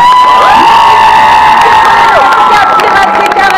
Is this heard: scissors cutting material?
no